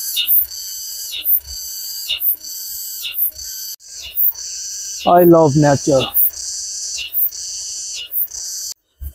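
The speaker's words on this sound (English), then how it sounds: "Can you hear the sound of the insect?" Insects in countryside fields near Shanghai trill in loud, rhythmic pulses repeating steadily about twice a second, close and continuous, while a person briefly speaks over them.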